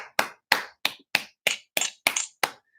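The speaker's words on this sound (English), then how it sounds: "Give me a good clap" Nine sharp single hand claps ring out one after another at a steady, brisk pace, each close and crisp with short gaps of silence between, no talk around them.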